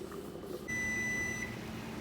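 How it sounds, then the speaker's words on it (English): A kitchen timer beeps once in a home kitchen, a single sustained electronic tone lasting under a second over a steady background hum, moderately close. "our timer is going off"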